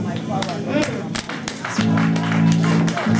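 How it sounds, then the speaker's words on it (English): A church congregation claps for the choir at a birthday service, a dense crowd of hand claps with a sustained musical tone and voices layered underneath. "Clap offering for the choir, please."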